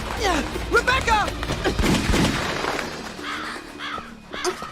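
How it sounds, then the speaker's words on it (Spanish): Crows cawing in the Resident Evil video game, several harsh rapid caws bursting out over a noisy game soundtrack with gunfire-like cracks, with a fainter cluster of calls a few seconds later. "Mientras navegan la mansión, son atacados por unos cuervos"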